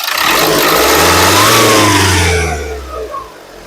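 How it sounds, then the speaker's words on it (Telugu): A 2014 Nissan Terrano XV engine revs up hard, holding a loud rising roar for a couple of seconds before easing off toward a lower idle. No voices. "ఇంజన్ యొక్క నాయిస్ చాలా అంటే చాలా స్మూత్గా అయితే ఉంది"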